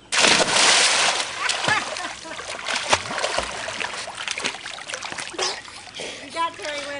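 A person jumps off a diving board into a backyard pool, and a loud splash opens the sequence, followed by sloshing and dripping water with voices talking and cheering nearby.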